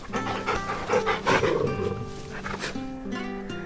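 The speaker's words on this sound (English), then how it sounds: "Oh, such a cute doggy." A dog in the Final Fantasy 16 video game pants steadily while being petted, with a breathy, rhythmic huffing and some low game sounds underneath, close and clear.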